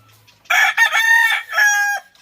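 A gamefowl rooster crows once in a small backyard, loud and close, a drawn-out call lasting about a second and a half with no other voices.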